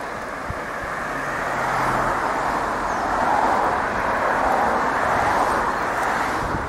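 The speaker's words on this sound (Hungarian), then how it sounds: "És hát változatlanul nagyon nagy a forgalom" Heavy traffic on a mountain road through the Low Tatras, a continuous broad rumble of passing vehicles that swells in the middle and stays fairly loud, with no talking.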